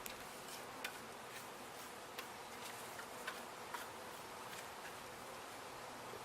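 Honeybees buzz in a steady, quiet drone while a hive package is installed outdoors, with faint clicks of equipment scattered through it and no talking.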